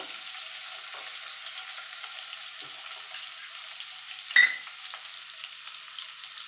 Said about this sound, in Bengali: দিয়ে দেবো আদা কুচি, কাঁচা লঙ্কা কুচি। এটাকেও একটুখানি ভাজা ভাজা করে নেব।